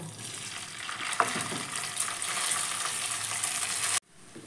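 Rice tipped into spices frying in oil for Bengali fried rice, giving a steady close sizzle with faint stirring scrapes and one sharp clink of a utensil, cutting off abruptly near the end.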